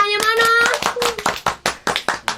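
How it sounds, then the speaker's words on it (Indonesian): Scattered clapping from a small group thanking the crew of an Indonesian organization's podcast, starting after a brief sustained vocal tone and thinning into a handful of sharp, separate claps. "Departemen Litbang, tepuk tangannya mana?"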